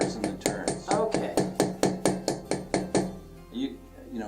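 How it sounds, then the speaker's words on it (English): Sharp metallic hammer taps on jewelry wire for an ear wire ring out in a quick, even series of about a dozen close strikes, then stop as quiet voices follow. "it's a good idea to hammer on both sides"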